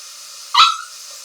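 A dog named Bubba lets out a single short, loud bark-like grumble close by in a quiet room.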